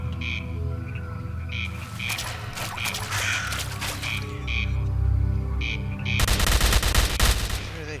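Gunfire from the video game S.T.A.L.K.E.R. Call of Pripyat: sharp, fairly distant shots come in scattered bursts over low background drones, then a dense rapid volley near the end sounds louder and closer.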